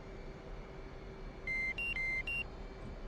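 A cockpit alarm in the DCS flight simulator video game sounds as a few sharp electronic beeps alternating between two pitches. It is short and clear over a constant low hum, with no talking.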